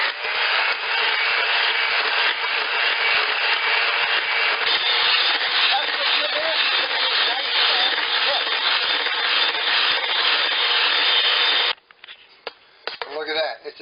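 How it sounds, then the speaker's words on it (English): An electric hand mixer whips cream with heaping powdered sugar in a bowl, a steady loud whirring drone that runs continuously for about twelve seconds before cutting off, followed by faint handling noises. "have out your electric mixer, and away you go."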